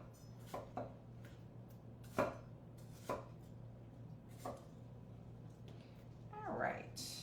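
Knife chopping watermelon into small cubes, several sharp thuds on a cutting board spaced irregularly, close and fairly quiet over a steady hum, ending with a slightly longer scraping cut.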